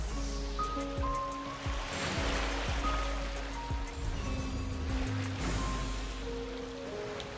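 Ocean waves wash and surge in Genshin Impact, a soft continuous roll of surf under game music tones, fairly quiet, with no talk over it.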